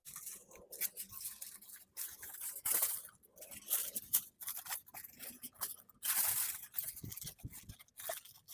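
Scissors cut through foil paper wrapped around a car key remote, close and crisp: irregular bursts of snipping and crinkling foil with short pauses between the cuts.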